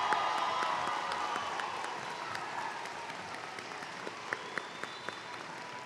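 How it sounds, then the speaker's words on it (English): Guests at a spring commencement ceremony give the graduates a sustained round of applause, a broad crowd clapping that gradually thins toward the end, with a few scattered claps and faint cheering. "Let's give one more round of applause for our amazing graduates of PHSC."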